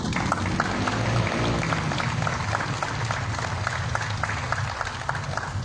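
An audience at a civic ceremony in Grecia claps steadily, a sustained patter of many hands at moderate loudness that continues evenly from start to finish.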